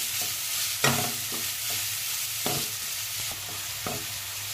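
Chopped garlic and onions fry lightly in a pan, a steady sizzle broken by several sharp scrapes and clinks of a spoon stirring, close and fairly loud with no talking.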